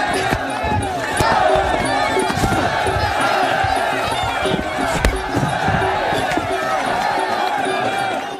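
Dense crowd roar at a prison boxing fight, loud and continuous with shouting and cheering voices blended together, plus scattered thumps and sharp knocks throughout.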